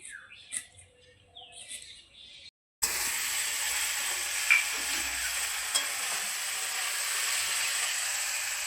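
Sliced bitter gourd and potato fry in oil in a home kitchen pan. After a quiet opening with faint background sounds, a loud, steady sizzle starts abruptly and holds close and constant, with a few small pops.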